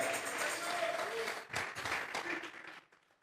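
A church congregation breaks into applause during a sermon, a dense burst of clapping that swells then tapers, with voices mixed in underneath.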